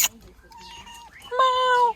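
A cat meows twice in a home setting, a short call followed by a longer, louder drawn-out meow, with faint background sounds between.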